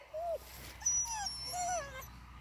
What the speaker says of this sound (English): Nice and thick, nice big puppies.